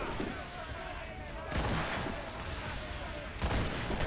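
Gunfire in Assassin's Creed Rogue on PC, a dense rumbling volley with two louder booming surges, continuous for about four seconds.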